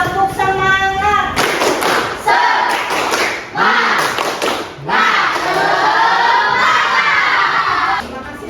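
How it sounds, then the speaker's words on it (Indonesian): Classroom children shout and clap together in a tepuk semangat spirit clap, a loud, lively burst of voices with rhythmic thumping claps, briefly dipping before rising again and holding at full strength. "Ya, tepuk semangat dulu untuk hari ini."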